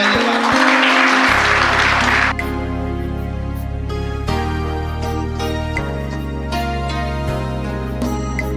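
A church congregation claps for the King during a leadership school sermon, a short wash of applause over loud sustained worship music that carries on alone after the clapping stops.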